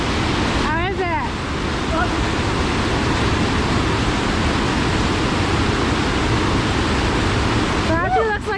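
A waterfall rushes at night along a hiking trail, a loud, steady broadband roar that fills the whole clip, with brief chirping sounds near the start and end.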